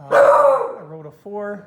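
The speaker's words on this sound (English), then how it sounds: "Sorry about my dog." A dog barks close by in a loud, short outburst followed by a second bark, overlapping someone speaking.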